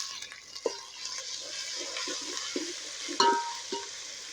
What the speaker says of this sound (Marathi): लालसर कांदा झाल्यानंतर त्यामध्ये आपण अद्रक लसूणची पेस्ट घालून घेऊया.